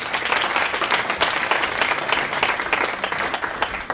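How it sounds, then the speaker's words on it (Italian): An audience claps steadily through the short stretch, a dense even patter of many hands with no talk over it. "un applauso"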